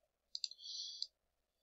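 A single computer mouse click in LED sign playlist software, heard as a short, quiet click with a brief bright tone in an otherwise silent room.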